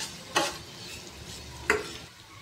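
Chopped onions frying in oil with cardamom, cinnamon, star anise and bay leaf for a chicken kosha, giving a quiet, steady sizzle with two sharp spatula scrapes against the pan.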